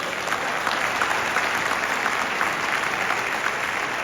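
An audience at a business meeting applauds its upline leader, a steady wash of many hands clapping that stays level and fairly distant throughout, with no talk over it.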